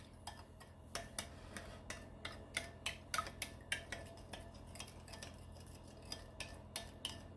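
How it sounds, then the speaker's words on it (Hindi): A spoon stirs sugar into cream in a bowl, making quiet, close, fairly regular clinks and taps against the bowl over a faint steady hum. "तो अभी हम शुगर मिक्स करते हैं"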